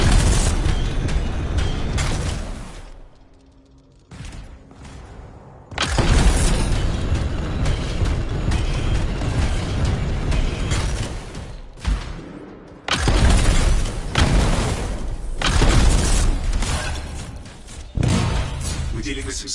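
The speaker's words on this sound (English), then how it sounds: "It'll be a contained explosion." Canisters blow up in a PlayStation 4 video game, heavy booming blasts and rumbling debris bursting repeatedly in loud waves with brief quiet gaps between them.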